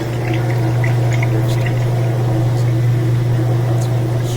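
A Whirlpool washing machine spinning while water drains and gushes out, a steady hum with continuous rushing and splashing water, close and loud.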